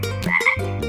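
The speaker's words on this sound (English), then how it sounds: "I see a green frog looking at me." A frog croaks in short, loud, close bursts, a rhythmic guttural call with a brief higher-pitched pause between croaks.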